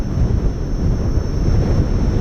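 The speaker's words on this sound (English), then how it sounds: "Oh, it's really windy." Strong wind gusting over a rider on a Gotway Monster electric unicycle outdoors, a loud continuous low roar of wind buffeting the microphone, no talking.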